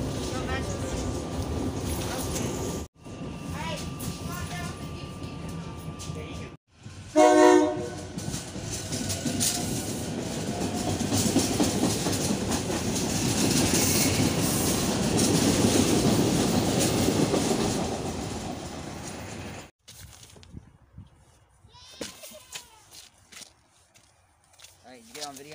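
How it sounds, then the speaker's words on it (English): A train rolls past at a rail crossing in Elkins, a broad rumbling roar with clickety-clack of wagons building and sustained for about twelve seconds, then cutting away; people talk nearby before and after. "there goes a train"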